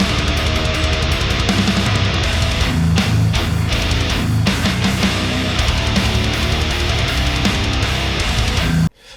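Dense, aggressive distorted electric guitar, reamped through an amp, playing a heavy metal riff at high level throughout, dirty and harsh in the upper mids, with a full band mix ending abruptly.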